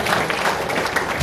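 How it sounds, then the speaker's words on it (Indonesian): Applause from a mostly female audience at an Indonesian business-school seminar session, a short burst of dense clapping with some voices underneath. "Tepuk tangan buat kaum ibu-ibu."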